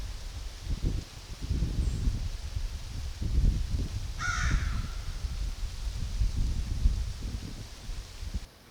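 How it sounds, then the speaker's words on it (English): A crow caws a few times, distant and fairly faint, outdoors at night over steady rustling and wind noise. "Maybe it's just that crow,"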